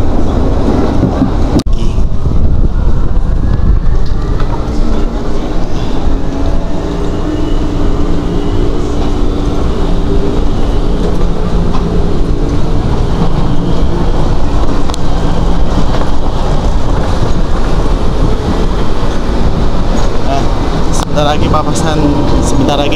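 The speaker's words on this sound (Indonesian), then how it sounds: "Persiapan stabling di Dipo Jakarta Kota sebelum nanti malam jadi Gajayana lagi" Inside a moving KRL commuter train near Jakarta Kota depot, a loud, continuous rumble of wheels and car noise fills the space steadily throughout, with occasional clicks and rattles.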